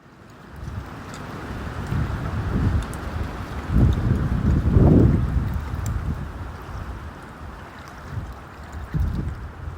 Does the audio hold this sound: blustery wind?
yes